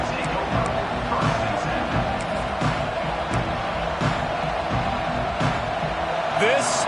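Roaring stadium crowd at a Clemson college football game, a steady wall of noise with rhythmic thumps and swells of cheering, far-off and constant, under a commentator's voice.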